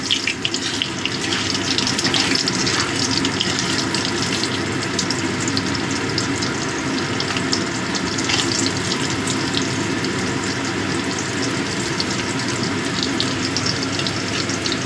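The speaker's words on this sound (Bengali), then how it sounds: "আলুটা একটু ভাজবো।" Potato pieces frying in hot oil after panch phoron spices were tempered, for a mixed vegetarian curry; a steady, dense sizzle and hiss runs the whole time, close and loud, with no voices.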